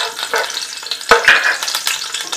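Almonds, green cardamom and cinnamon sticks frying in hot oil in a pot, a bright crackling sizzle with a few sharp spits and pops, close and fairly loud, no voices.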